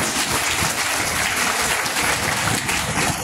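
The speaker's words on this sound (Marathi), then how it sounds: "पुन्हा एकदा जोरदार टाळ्या दिल्या." A crowd applauds vigorously at a teacher award ceremony, a dense, continuous wash of clapping that stays loud and unbroken throughout.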